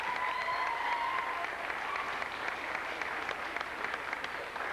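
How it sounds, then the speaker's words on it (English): An audience at a memorial concert in Roslea applauds a traditional music session, a dense, even roar of many clapping hands that carries on steadily throughout. "Give them another nice round of applause then."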